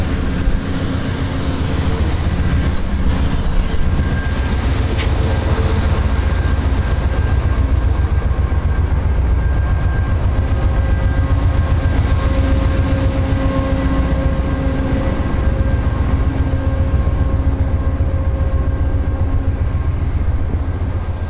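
Idling train locomotive engine heard from close by, a loud constant low rumble with steady droning hum that persists throughout, level easing slightly as the listener moves away.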